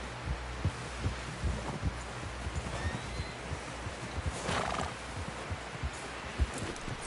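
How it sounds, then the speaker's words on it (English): Horse in the video game Red Dead Redemption 2, with rhythmic hoof clip-clop and low thudding steps throughout and a brief whinny near the middle, set against steady game ambience. "Someone help John down off this horse"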